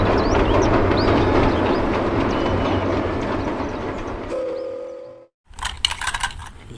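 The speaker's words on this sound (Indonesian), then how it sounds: "Wow, lihat, di sini ada kereta api Thomas." A Thomas and Friends toy train running, a steady rattling, clattering drone close by that fades near the end, followed by a few sharp plastic clicks and knocks.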